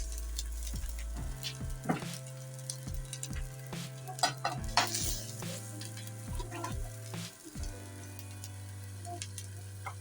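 Spices sizzle and fry in a hot pan for egg white korma while a utensil stirs them, with steady close frying and scraping taps throughout and no talking.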